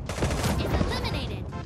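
Rapid gunfire in the Sausage Man video game, a dense burst of repeated shots crackling in quick succession, loud and close, with a voice partly mixed in.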